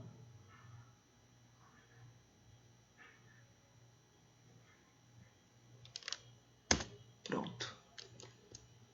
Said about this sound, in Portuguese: Vou até digitar aqui a correção